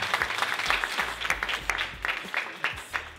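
An audience gives a round of applause for a speaker at a suicide prevention talk, a modest, uneven spatter of claps with distinct individual hits and low thumps mixed in.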